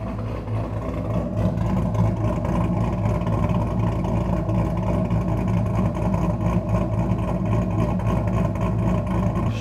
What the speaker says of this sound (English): let's do a little exhaust sound sample here.